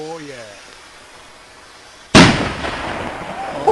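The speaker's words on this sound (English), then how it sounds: "This should be a red palm tree when it explodes." A red palm tree firework explodes on Bonfire Night in Coventry with a sudden loud bang and long crackling, hissing tail, after a quieter stretch with voices talking.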